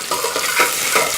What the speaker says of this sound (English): I slit the green chilies and I am adding it to the ginger garlic paste.